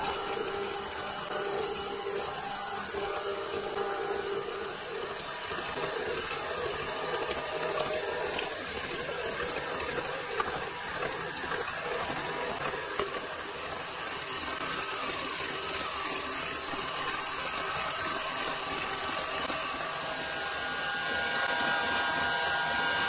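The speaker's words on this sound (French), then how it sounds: "On va commencer à fouetter donc ces trois ingrédients" Whole liquid cream with vanilla seeds is whisked for a strawberry millefeuille filling, making a continuous, even whirring that stays at a moderate level throughout.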